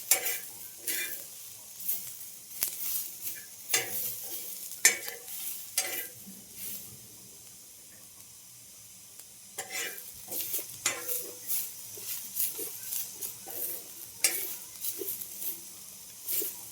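A non-veg curry cooks in a pan, with repeated scraping stir strokes and a steady low sizzle, close by, pausing briefly midway before the stirring resumes.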